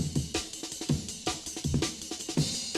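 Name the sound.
Amen drum break sped up to 160 BPM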